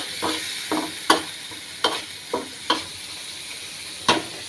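A utensil scrapes and clatters in a frying pan as beef brain sizzles, with about eight distinct scraping strokes over a steady, soft hiss.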